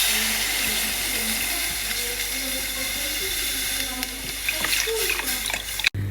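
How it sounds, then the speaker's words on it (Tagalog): Milk poured into a stovetop béchamel sauce, a steady liquid hiss and slosh heard close under kitchen background noise, ending with a brief thump. "Lagyan na natin ng gatas."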